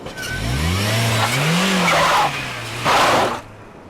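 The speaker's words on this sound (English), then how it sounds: "then he simply drove away" A car pulls away with its engine revving up and rising in pitch, tires hissing on the surface. It stays loud and fairly close and then fades as it leaves, with no talking.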